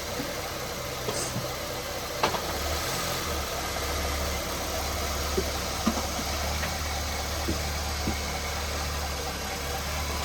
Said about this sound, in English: the engine sounds really quiet